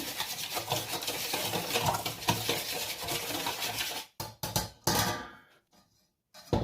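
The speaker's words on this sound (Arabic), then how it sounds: "غادي نخلطوا هاد العناصر كلها جيدا حتى يتجانسوا لنا بيناتهم" Olive oil marinade ingredients stirred together in a bowl for oven-roasted chicken and potatoes, a close, continuous scraping and rubbing that runs steadily, then breaks into a few short strokes and falls quiet before resuming briefly.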